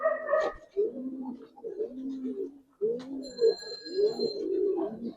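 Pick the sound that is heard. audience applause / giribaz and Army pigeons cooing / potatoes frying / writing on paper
giribaz and Army pigeons cooing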